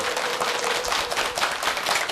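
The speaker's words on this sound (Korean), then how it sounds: "큰 박수로 맞이해 주십시오" Warm applause from a studio audience greets a medical journalist arriving to speak about cancer on a TV lecture show, a dense, steady clatter of many hands at close range.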